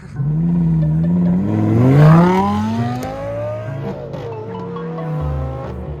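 A Lamborghini Gallardo Performante and a Corvette C8 launch side by side in a drag race, engines revving hard with rising harmonic tones through the gears and a faint tire squeal, loud and close throughout.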